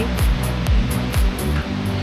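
Rushing water at Muak Lek waterfall in Saraburi, Thailand, a steady loud broadband roar with a few low thumping surges, heard up close with no voices.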